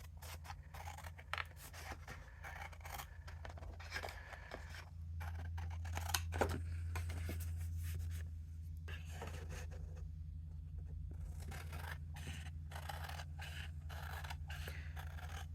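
Scissors cut through card paper, with repeated crisp snipping strokes in bursts and brief pauses between them, close and clear over a faint low hum, with no talking.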